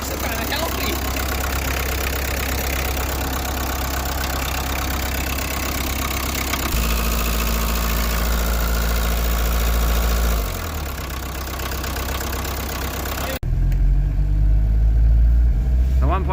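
A 1986 Volkswagen Jetta with a 1.6 turbo diesel runs nearby with a steady rough clatter, its pitch shifting as revs rise and fall, while people talk over it.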